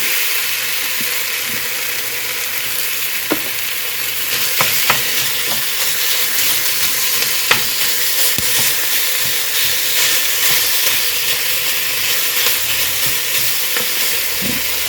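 A pound of 93% lean hamburger sizzles and fries steadily in a pan, a constant close hiss broken by occasional sharp clicks and scrapes as it is stirred.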